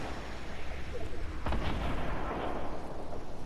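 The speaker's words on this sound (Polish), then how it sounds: "Strzelasz, strzelaj." Gunfire in the video game Fortnite on PS4, a dense noisy barrage with a sharp louder shot burst near the middle, continuous and fairly loud with no talk over it.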